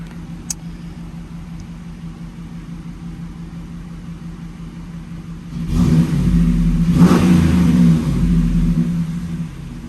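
A stock Hemi Ram truck engine strapped to a dyno idles with a low rumble, then revs up into a louder roaring pull for a few seconds before settling back.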